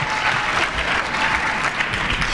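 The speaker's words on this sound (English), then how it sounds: "Let's give a round of applause." A school concert audience at a community arts showcase breaks into steady, full applause that fills the hall, dense and continuous with a light crowd murmur beneath.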